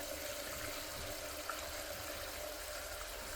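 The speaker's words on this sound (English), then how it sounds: "basically just fill it up with water." Hot water running steadily from a tap into a bucket, a continuous close broadband rush with no pauses and no talking.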